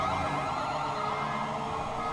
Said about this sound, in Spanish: Mira, están pasando las patrullas por arriba.